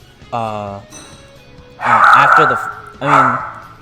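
Pet dog barking indoors during a gaming conversation: a single yip followed by two loud, close woofs spaced about a second apart, with no talk over them.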